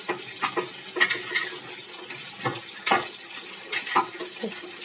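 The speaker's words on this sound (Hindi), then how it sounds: "सोया सॉस थोड़ा सा डाल देंगे" Chicken frying in a pan as soy sauce goes in, with soft sizzling and scraping stirs coming in short irregular bursts at close range.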